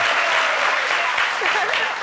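Studio audience applause on a French television show, a dense, steady burst of clapping lasting a couple of seconds, with faint voices underneath.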